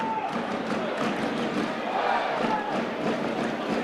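A rugby league crowd in a Warrington versus Hull match roars in steady approval after a big tackle, a dense, sustained wash of cheering and shouting that stays loud from start to finish.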